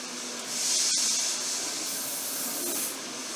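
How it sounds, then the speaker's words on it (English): A single short burst of Living Proof Flex hairspray hisses close by, followed by a softer, steady airy hiss that fades toward the end. "Light spray of Flex."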